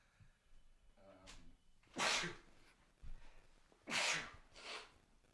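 Two sharp, loud sneezes a couple of seconds apart, with quieter sniffs and breaths around them, close to the microphone.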